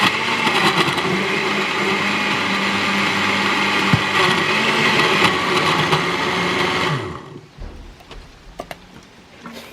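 A blender blending vegetables with water whirs loudly and steadily for about seven seconds, then cuts off abruptly, leaving quiet with a few faint clicks and knocks.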